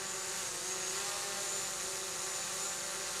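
Small camera drone hovering overhead during a road trip in Oklahoma, a steady, high-pitched whirring buzz of spinning propellers that holds evenly and fairly loud throughout, with no voices.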